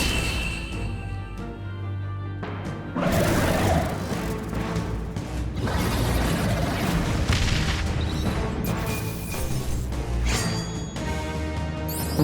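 A Raging Fire spell blast from the fantasy game Metaphor: ReFantazio, a loud roaring burst that erupts after a quieter stretch and sustains with crackling booms over a game music bed, with no speech.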